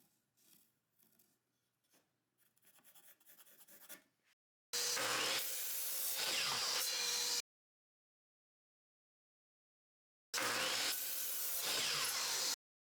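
Power saw cutting scrap 2x3 wood pieces for a bench, two loud sustained cuts of a few seconds each, separated by silence and preceded by quieter handling noises.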